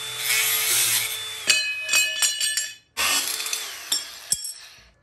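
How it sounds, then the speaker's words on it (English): DeWalt angle grinder with a cutting disc slicing through steel plate, loud and close, with high metallic whine and bright clinks and scraping hits in two bursts separated by a brief pause, no talk. "I'm going to get on my DeWalt angle grinder with a cutting disc, and I'm going to make the cuts"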